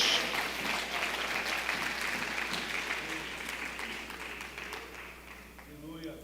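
Church congregation applauding during a sermon, a steady wash of many hands clapping that holds for several seconds and slowly thins out, with a voice faintly underneath.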